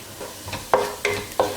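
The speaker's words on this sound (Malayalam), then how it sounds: "കാശ്മീരി ചില്ലി പൗഡറിൻ്റെ ഒരു റോ ടേസ്റ്റ് ഒന്ന് മാറുന്നത് വരെ നമ്മളൊന്ന് ഇളക്കി കൊടുക്കുക" Onions being stirred in a pan with Kashmiri chili powder over a low flame: three sharp spoon scrapes against the pan stand out over a soft, steady sizzle.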